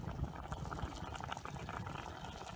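Stew bubbling in a pot on a Swedish log stove, a close, continuous gurgle of boiling liquid with soft popping bubbles and no voices.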